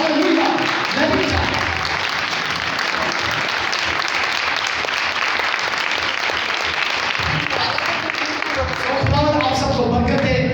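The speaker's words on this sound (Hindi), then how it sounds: "अपनी खूबसूरती के लिए जोरदार ताली बजाइए।" A church congregation breaks into loud, sustained applause filling the room for several seconds, with a voice speaking over the clapping as it fades.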